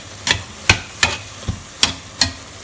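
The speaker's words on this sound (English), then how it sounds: "Mix it through." Minced meat bolognese sauce with sweet soy sauce is stirred in a pan, six distinct spoon scrapes and knocks coming at a steady, unhurried rhythm over a quiet sizzle, close and clear with no talking.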